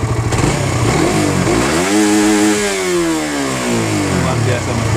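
Suzuki GSX-R150 motorcycle engine revving hard and climbing steadily in pitch to the rev limiter, then easing back down. It is loud and close, with the engine droning continuously throughout.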